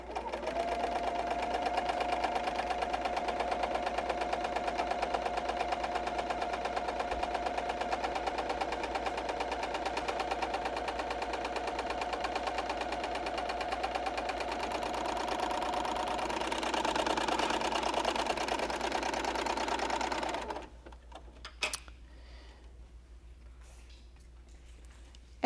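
Bernina L890 serger stitching a 3-thread rolled hem, running at a steady, continuous mechanical whir for about twenty seconds before stopping abruptly, followed by quiet handling noise and a faint click or two.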